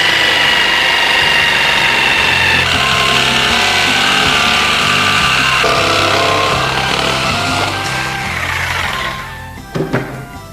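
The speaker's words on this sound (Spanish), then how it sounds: "esta vez la sierra de calar ya puesta en sentido vertical sin inclinación y vamos con el corte" A jigsaw set vertical with no tilt cuts a round wooden wheel for a wooden wheelbarrow, its motor buzzing loud and steady for about ten seconds before the blade clatters and stops.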